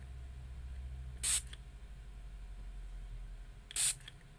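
Two quick, hissing squirts from a spray bottle onto watercolour paper, spaced a couple of seconds apart, sharp and close against quiet background hum.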